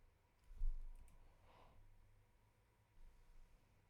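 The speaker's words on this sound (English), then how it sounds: "I'm going to type in canada.ca," A laptop keyboard gives a short run of faint, quick typing clicks near the start, then the room goes quiet with only soft background hiss.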